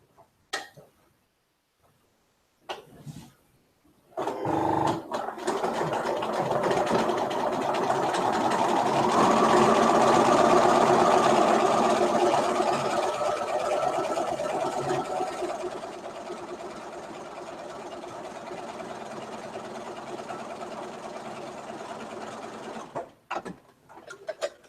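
A Bernina sewing machine stitches fabric for a doll dress, a rapid even whirring hum running for about ten seconds after a few brief clicks, then slowing and stopping.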